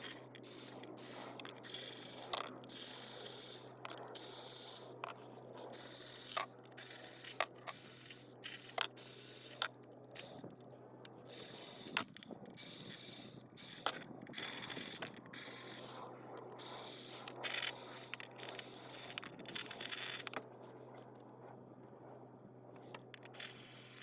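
Milwaukee M12 cordless power ratchet spinning out oil pan bolts under a 2017 Audi A3 Quattro 2.0 Turbo, close whirring bursts and clicks repeating steadily over a constant background hum.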